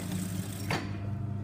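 A sewing machine runs a back tack in a steady mechanical hum, with a brief scraping burst partway through as the stitching reverses.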